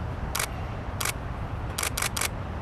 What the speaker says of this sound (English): That's when I'm pressing the shutter.